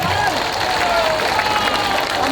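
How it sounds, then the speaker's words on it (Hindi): Large crowd at a political rally in Bihar clapping continuously, a dense even wash of applause over the whole stretch with a voice over it. "जोर से बजाइए ताली"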